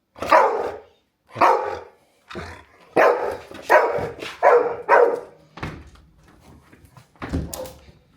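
A dog barks in a string of loud, sharp woofs at an uneven pace, close by, with quieter rustling and thuds between barks.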